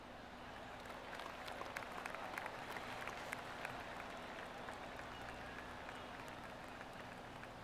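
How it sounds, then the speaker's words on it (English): In PGA Tour 2K23, a golf gallery gives soft, steady applause after a shot. The scattered clapping stays faint and continuous from a distance. "That deserves a golf clap."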